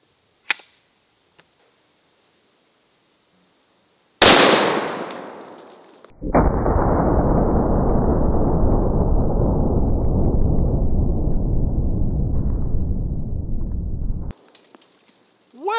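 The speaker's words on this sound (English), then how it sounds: "here is the 460 Weatherby Magnum with the 500 grain solid" A .460 Weatherby Magnum rifle fires a 500-grain solid at a bowling ball: one sharp, very loud blast with a fading tail, then a long roaring burst of noise that cuts off abruptly, with faint clicks before.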